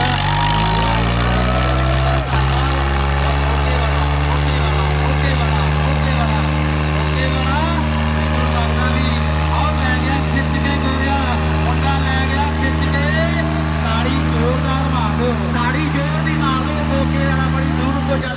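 A tractor engine runs loud and close at a tractor tug-of-war contest, a steady low rumbling drone throughout while an announcer talks over it.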